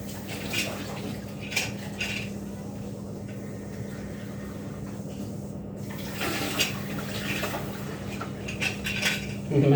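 Pots, dishes and cutlery clatter in a home kitchen during a hunt for a pot lid, with scattered clinks and knocks over a steady low hum and faint running water.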